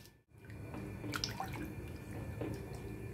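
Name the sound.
mixing salt into water by hand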